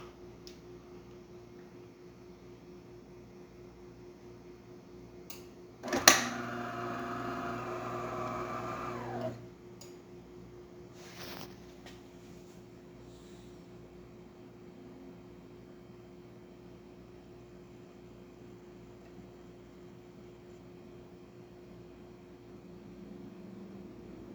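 A quiet DeLonghi Magnifica espresso machine hum, then a burst of hissing, gurgling water flow from its rinse cycle lasting a few seconds before fading back to the low hum and a faint click.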